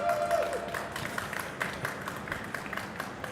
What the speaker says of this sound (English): Round of applause there for Javi from Williams.